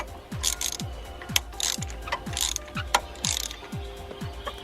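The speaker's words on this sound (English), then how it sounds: "Going to tighten up that clamp at the bottom that we loosened off earlier." Ratchet clicking as it tightens a hose clamp on the EGR piping of a BMW E46 diesel: about eight evenly spaced ratcheting strokes, each a crisp burst of clicks, close and alone with no talk.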